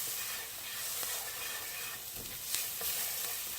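Ground cinnamon, cumin and paprika being stirred into onions frying in a pan, a steady close sizzle with soft scraping stir sounds running throughout, no talking.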